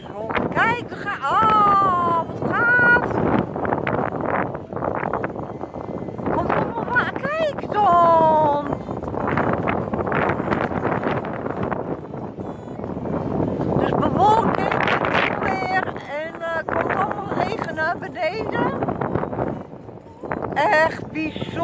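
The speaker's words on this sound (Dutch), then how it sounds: "Oh, wat een wind, hoe waai." Strong wind blowing outdoors on a December outing in the Netherlands, a continuous, loud, gusting rush that buffets the microphone throughout while people talk over it.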